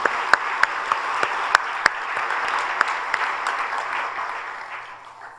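Congregation applauding during a Friday overnight church worship service, a dense wash of clapping with a few sharp claps standing out, steady then fading toward the end.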